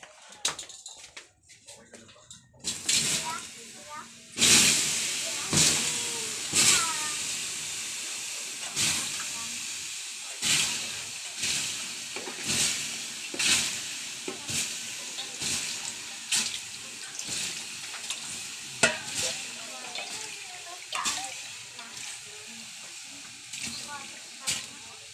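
Water splashes and pours in repeated bursts over hot charcoal in a clay kiln to douse it, each one bringing a loud hissing sizzle of steam, close and continuous for most of the stretch.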